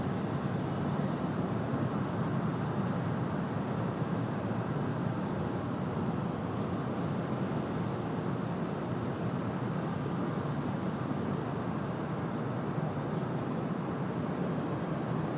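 Airbus A319 airliner arriving from Miami, a steady, moderately loud jet engine roar with a faint thin whine on top, continuous for the whole stretch without speech.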